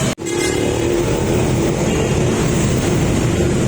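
A loud, continuous rumbling roar of an LRT light rail train running past close by at Caloocan, Philippines, heavy low-end noise sustained for several seconds after a brief dropout at the start.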